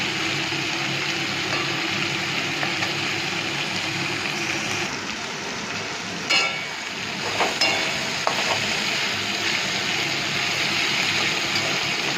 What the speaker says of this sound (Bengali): হ্যাঁ একটু ভালো করে ভেজে নেব মাছটা